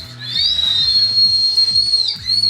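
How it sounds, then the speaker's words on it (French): Japanese whistling candy blown into one long, loud, piercing whistle lasting nearly two seconds, slightly wavering in pitch and tailing off at the end over a low pulsing background. "ce sont normalement des bonbons qui sifflent"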